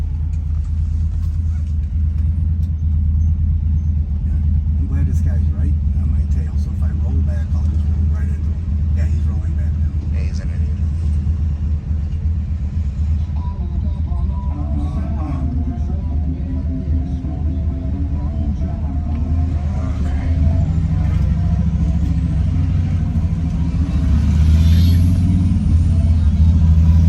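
A 1964 Mercury Montclair with a 390 V8 idles with a deep, steady rumble throughout, loud and close, while people talk over it.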